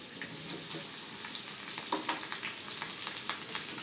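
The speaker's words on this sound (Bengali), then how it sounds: "এখন আমি আমগুলো দিয়ে দিচ্ছি।" Raw green mangoes, about a kilogram, go into a hot spiced pan for chutney, giving a steady, moderate sizzle with light stirring scrapes and small pops over the frying hiss.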